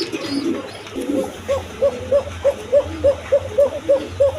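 Pigeons on a farm coo in a steady series of about ten soft, evenly spaced calls, close and clear, after some brief rustling at the start.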